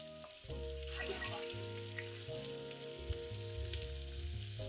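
Sliced skin-on potatoes fry in hot oil in a cast iron pan, giving a steady, close sizzle with crackling bursts and a low hum running underneath, with no voices.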